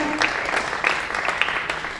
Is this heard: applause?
yes